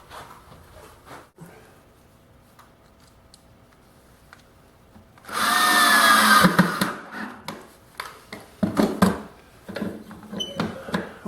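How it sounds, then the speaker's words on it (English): A power tool, a bandsaw or disc sander shaping a curve in wood, roars in loudly partway through for about two seconds, followed by close, intermittent knocks and handling clatter on a workbench. "Now I need to go to the bandsaw and disc sander and smoothly remove the material to this"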